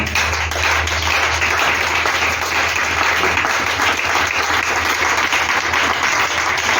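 A church congregation applauds in a continuous, dense wash of clapping that stays loud and even throughout, with no pauses and no talk over it.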